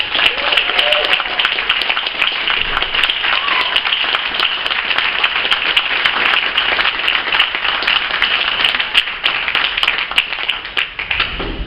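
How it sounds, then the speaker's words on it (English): An audience at a book launch for a poetry anthology claps steadily, a dense, sustained round of applause filling the room from start to finish. "give a round of applause to the book's editor"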